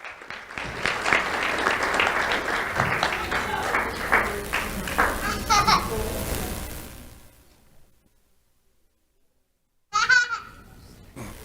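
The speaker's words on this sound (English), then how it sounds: "Let's have a round of applause for Albus Trujillo Tashera." An audience at a school awards ceremony applauds an honoree, a crowd clapping for several seconds amid children's voices before fading to silence, then a brief burst of noise returns.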